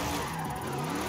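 A car engine revs hard at full throttle in the Forza Horizon 5 video game, a sustained loud mid-pitched roar with a rising tone and no voices over it.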